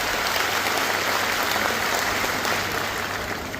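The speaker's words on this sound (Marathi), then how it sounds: "यांच्यासाठी एकदा जोरदार हात वर करून आपण टाळ्या वाजवल्या पाहिजे" A large crowd applauds the district council president at a public gathering in Dharashiv, a steady, dense roar of clapping that holds throughout and eases only slightly at the end.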